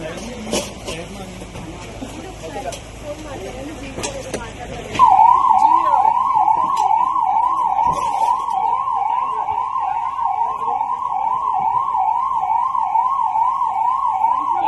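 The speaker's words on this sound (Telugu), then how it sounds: "సైరన్ ఆన్ చేయమండి." A police vehicle siren switches on partway through, a loud, close wailing tone that sweeps up and down continuously after a stretch of mixed background noise and clatter.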